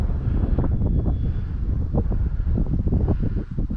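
Wind buffeting a microphone outdoors during a windy RC plane flight with an OMP Hobby Super Decathlon, a steady loud rumbling roar with gusty fluctuations throughout and no talk.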